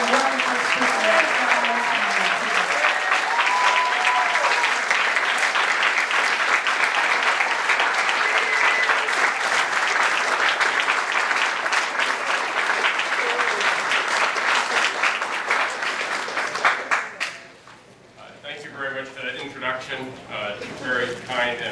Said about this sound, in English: put your hands together to give a huge, warm thank you to our wonderful speaker